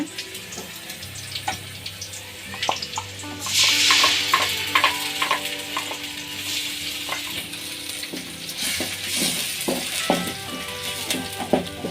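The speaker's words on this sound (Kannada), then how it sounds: "ಪೇಸ್ಟು ಕೂಡ ಸ್ವಲ್ಪ ಲೈಟಾಗಿ ಹಸಿ ವಾಸನೆ ಹೋಗೋ ಗಂಟ ಫ್ರೈ ಮಾಡ್ಕೊಳ್ಳೋಣ" Masala paste fries in oil for a mutton pepper fry, with a continuous close sizzle and occasional stirring scrapes. A faint steady hum sits underneath.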